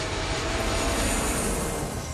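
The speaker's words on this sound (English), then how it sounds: "now the skies are full of planes" Airplanes fly overhead with a continuous, loud engine roar and wash of air noise, steady throughout with no talking.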